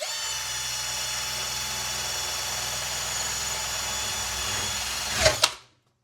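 Electric power tool with a scrubbing brush attachment working over a filthy oven, a steady high whirring drone held for several seconds before a couple of louder scraping bumps and a quick shutoff.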